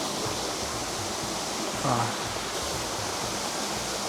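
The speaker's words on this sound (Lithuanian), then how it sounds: "Ir krioklių dar yra." A waterfall in the Madeira jungle sends out a steady, broad rush of falling water, filling the whole stretch evenly with no breaks.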